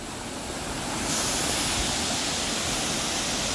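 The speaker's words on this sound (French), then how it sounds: "ça vaut le coup rien que pour cette cascade magnifique" A cold mountain spring cascade pours in a steady, loud broadband rush that swells slightly after the first second and stays constant, with no voices.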